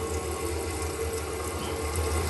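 Water rushes steadily into a toilet tank as it refills and lifts the float, a constant close hiss with a low hum, running on alone without pause.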